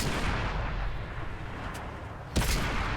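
A tank cannon fires in World of Tanks, a sharp broadband blast near the end cutting through a steady low rumble of engine and battle noise, with a fainter shot earlier; no one talks.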